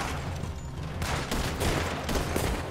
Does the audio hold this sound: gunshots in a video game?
yes